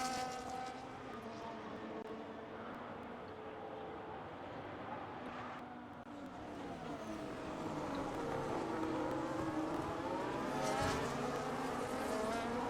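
Engines of a pack of race cars in a racing video game build steadily as the field gets away at the start of a race at Spa in Belgium, a dense continuous roar with rising pitch sweeps and growing loudness.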